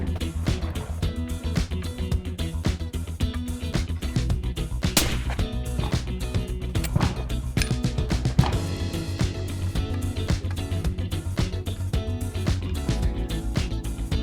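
A rifle fitted with a suppressor and muzzle brake fires as a steady run of sharp, loud cracks over a dense, busy background, each report short and punchy.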